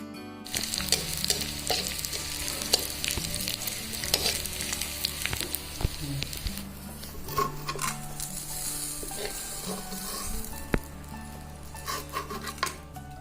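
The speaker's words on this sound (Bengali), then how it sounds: "চিংড়িগুলোকে ভালো মতন ধুয়ে নিয়ে হালকা লবণ, মরিচ আর হলুদ গুঁড়ো মিশিয়ে গরম তেলে বাদামি করে ভেজে নেব" Prawns seasoned with salt, chili and turmeric sizzle steadily in hot oil in a Bengali kitchen, a continuous crackling fry broken by occasional scrapes and clinks of a utensil against the pan; no one speaks.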